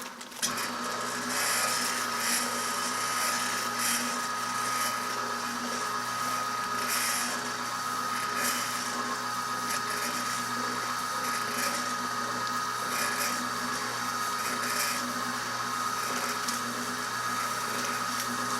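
An electric meat mixer churns andouille sausage meat with a steady, continuous mechanical whir and grind, holding an even level throughout with no talk.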